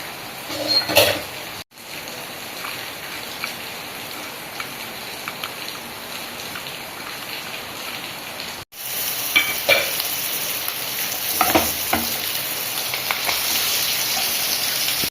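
Fish head rubbed with salt and turmeric sizzling in hot oil, a continuous crackling fry with occasional stirring clatter and brief pauses, close and fairly loud.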